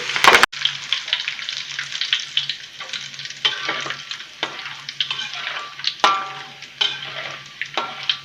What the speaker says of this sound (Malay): And now we fry this one is kaffir leaf, ataupun daun limau purut.